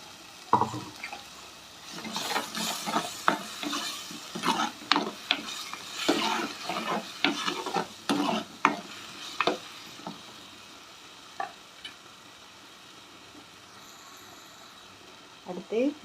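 Ground tomato paste sizzles faintly in a pan while a spoon scrapes and knocks against it in irregular bursts, then pauses.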